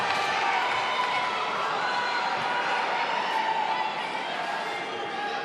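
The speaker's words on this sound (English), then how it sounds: "They're applauding low kicks" Spectators at a GLORY kickboxing event in Lyon send up a continuous roar of clapping and cheering that stays loud and steady, with a commentator talking over it.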